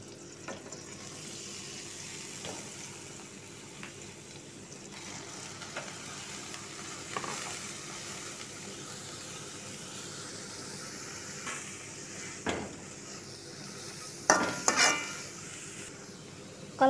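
Bean sprouts stir-fried with a little water in a pan, a steady soft sizzle and frying hiss running throughout, with a few louder scraping stirs near the end.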